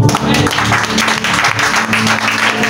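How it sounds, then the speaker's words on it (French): A church congregation applauds during a Sunday worship service, a dense, steady wash of clapping from many hands that fills the whole stretch, with a low hum of voices and music underneath. "Et on acclame le Seigneur"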